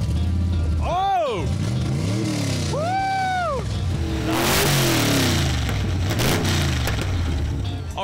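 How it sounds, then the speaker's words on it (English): A 350 V8 bored 60 over, replacing the original 327, revs hard with its custom exhaust cutouts open, giving loud, close, rising and falling roars in several bursts with a throaty rumble between them. "you just heard the cutouts on this thing, and the engine from a 327, I replaced it with a 350 bored out 60 over"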